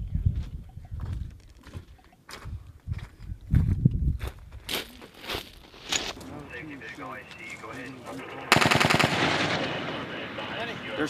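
Marines of Battalion Landing Team 1/5 fire machine guns in a live-fire drill, with sharp bursts and single reports, some nearby and some farther off, mixed with talking and shouting before a sustained rattling burst near the end.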